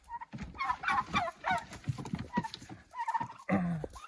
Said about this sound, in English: These turkeys, they made it all the way over here onto the deck.